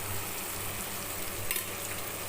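Eggplant sautéing in a pan gives an even, close sizzle with faint stirring, continuous and unbroken throughout.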